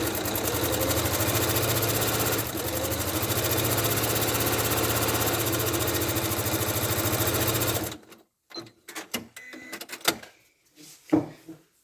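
A sewing machine stitching a soft toy ladybird, running in a continuous fast mechanical whir for about eight seconds, then stopping, followed by scattered handling clicks and rustles.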